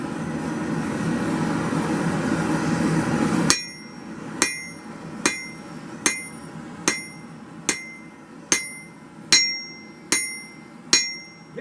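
A hammer strikes a blade about ten times at a steady pace, each ringing blow close and loud, as the edge is bevelled during forging; a steady forge roar fills the first few seconds before the strikes begin.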